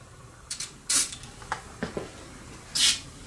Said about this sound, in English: Spray this on the wheel bearing here.